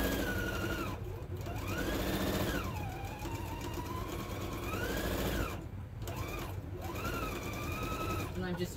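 A sewing machine runs steadily through strip quilting with Aurifil 2000 thread, its motor whine rising and falling in pitch as stitching speeds up and slows, continuous and close, with a voice talking over it.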